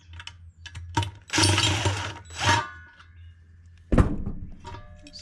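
Metal fins snapping off a scrap part, heard as a few sharp close knocks and clattering bursts, including a loud thunk near the end, with brief handling noise between them.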